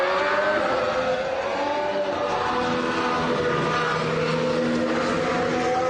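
A 2026 Formula 1 car, a Mercedes or Alpine, runs on track with a steady, loud, high-pitched engine note that holds through the whole stretch, swelling slightly as it passes, with no voices over it.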